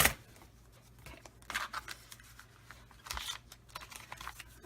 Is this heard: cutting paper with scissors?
yes